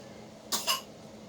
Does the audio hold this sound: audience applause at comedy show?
no